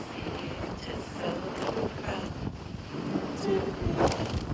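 Strong wind buffets the microphone on the open deck of the Celebrity Summit cruise ship at sea, a continuous rough roar with gusty swells and faint sea noise beneath.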